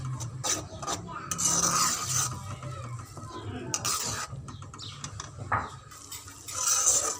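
Masala for aloo kofta curry fries in a pan, heard as repeated rasping scrapes of a spoon stirring it, alternating with quieter moments, close up and fairly soft.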